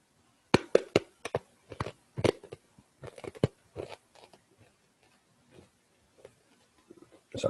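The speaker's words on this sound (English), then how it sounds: "Sorry, apologies if you can hear me crunching that." Crunchy food is bitten and chewed close to a microphone in sharp irregular bursts, loud crunches clustered early and fading to softer, sparser chews, with no speech.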